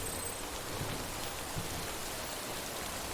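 Steady timefall rain in Death Stranding, a soft even hiss of falling rain heard alone at low volume without any talk.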